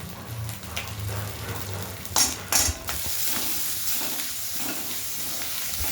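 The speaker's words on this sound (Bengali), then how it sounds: "এই দেখুন মা এগুলো ভেজে নিচ্ছে।" Ginger paste fries in oil in a kadai, making a steady close sizzle with two short bursts of louder spattering midway and a low hum underneath.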